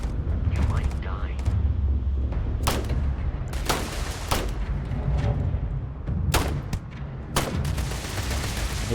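Sci-fi weapons firing in the space game Starfield, several sharp bursts spread irregularly over a low rumbling background, with a voice talking over parts of the action.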